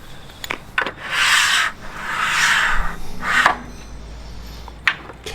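A Rhino-Rack mount slides along the rail track of a Rhino-Rack Pioneer Platform on a Jeep Wrangler. It makes two or three close scraping rubs, each lasting about a second, scattered between small clicks and knocks, with no talking.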